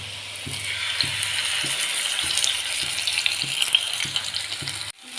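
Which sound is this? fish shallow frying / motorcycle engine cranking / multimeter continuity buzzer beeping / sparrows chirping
fish shallow frying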